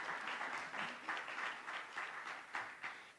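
Scattered audience applause at a Charlotte-Mecklenburg Schools meeting, a modest, fairly quiet patter of hand claps with uneven swells, heard from a distance.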